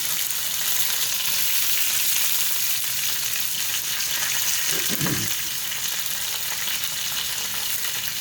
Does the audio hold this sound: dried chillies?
yes